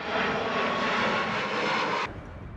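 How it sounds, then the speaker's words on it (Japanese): An airplane taking off at Haneda Airport in Tokyo, its jet engine roaring loud and close as a steady broadband rush that cuts off suddenly near the end, with no talking. "飛び立つ飛行機をこんなに間近で"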